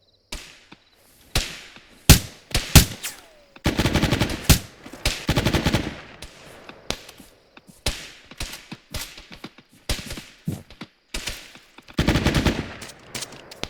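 Gunshots crack during shooting training, single sharp reports mixed with rapid bursts of fire in irregular clusters, loud and close, with long echoing tails.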